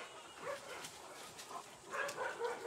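Large Kangal and Alabai dogs on a pack walk give off a few faint, distant barks and whimpering yips at a low level.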